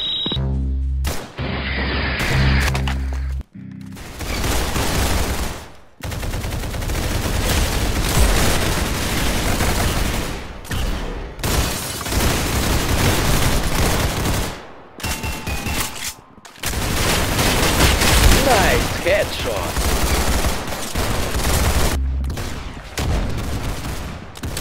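Sustained rapid gunfire in the Roblox shooter Arsenal, loud bursts of automatic fire filling long stretches with brief silent gaps between engagements, close and harsh throughout.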